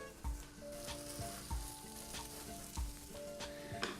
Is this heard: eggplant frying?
yes